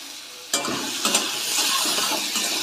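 Chopped onions sizzling in hot oil in a pan after garlic and chilli, a steady close frying hiss broken by scraping stirs of a spatula, with no talking.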